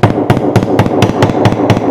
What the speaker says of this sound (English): I always like to use this hammer here. It's got that little plastic tip on it